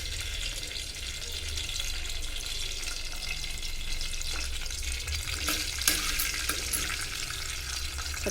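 Chana dal, urad dal, mustard seeds and cumin fry in hot oil with a dense, steady, close sizzle, and a few brief scraping clicks from stirring break through near the end.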